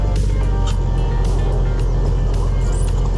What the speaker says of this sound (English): we're gonna cheat a little bit and try to use the snowcat to drive the track right off of the top of the tires